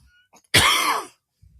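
A single harsh cough bursts out close to the microphone, loud and brief, with quiet near-silence before and after.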